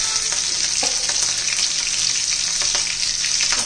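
Chopped garlic and green chilli frying in hot oil with tempered cumin and mustard seeds, giving a loud continuous sizzle with light stirring crackles throughout.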